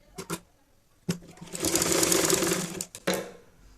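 A sewing machine stitches a folded fabric edge on a rabbit hat, with a few short taps and then one loud, continuous burst of stitching lasting over a second, followed by a brief final run.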